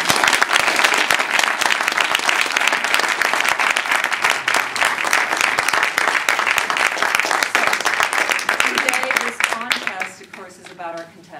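Loud, sustained applause from an audience welcoming a speaker at a Southwest Table Topics event, steady dense clapping that thins out near the end as a voice begins over the fading claps.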